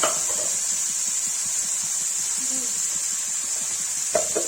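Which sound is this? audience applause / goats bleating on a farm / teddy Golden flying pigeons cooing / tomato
tomato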